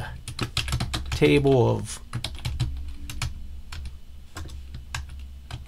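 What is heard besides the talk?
typing on a computer keyboard in Microsoft Word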